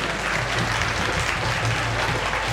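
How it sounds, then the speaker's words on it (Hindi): Steady, dense applause from an audience at a Sai Sandhya devotional evening in Raghunagar, loud and continuous throughout with no breaks and no talk over it. "एक बार जोरदार तालियां हो जाए"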